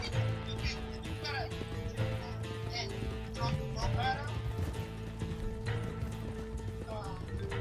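Horse hooves clip-clop in an uneven rhythm with a short whinny in the Red Dead Online video game, heard faintly under a talking voice.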